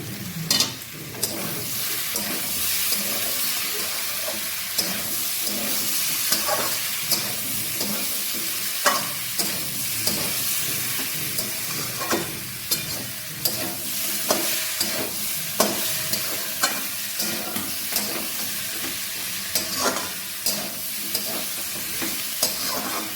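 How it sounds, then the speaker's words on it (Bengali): Prawns cook down in spices and salt in a pan, a dense continuous sizzle with regular spatula scrapes and stirring strokes running throughout, close and fairly loud. "আর দিয়ে দেবো চিংড়ি মাছগুলো একসঙ্গে ভালো করে চিংড়ি মাছ কষিয়ে নেব"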